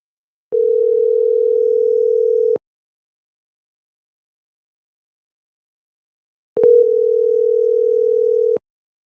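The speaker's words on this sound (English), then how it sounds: "I'm gonna call again." Telephone line tone heard while placing a call again on a tricky line: two loud, steady, identical tone bursts of about two seconds each, separated by a long silence.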